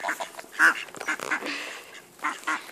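A goose wandering near a fish tub gives several loud, nasal honking calls in quick irregular bursts, close by and with no talk.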